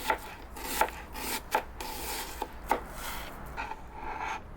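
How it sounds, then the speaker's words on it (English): A knife slices through onion on a cutting board during outdoor prep for bacon-wrapped street hot dogs. A handful of crisp, irregular cuts and scrapes sound close and moderately quiet, with no talking. "Let's slice some onion."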